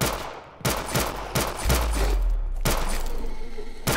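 Rapid gunfire in the zombie video game SKER RITUAL, loud, dense volleys of shots in quick succession with a low rumble underneath, no pauses across the stretch.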